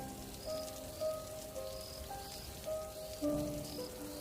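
Steady heavy rain falls at night outside a house courtyard, a dense continuous patter with scattered drips and faint tonal plinks over a constant wash, no voices.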